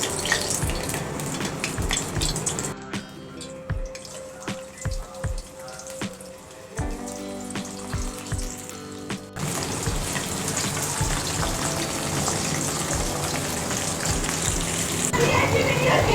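Chicken potato sticks frying in hot oil over a low flame, a steady crackling sizzle with popping bursts that quiets for a stretch and then returns at full strength.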